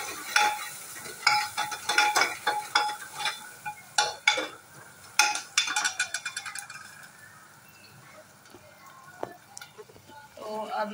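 Vegetables fried and stirred in hot ghee for a tempering, with bursts of sizzling and scraping stir strokes close by, loud at first then settling into a quieter sizzle with occasional clatters of utensils.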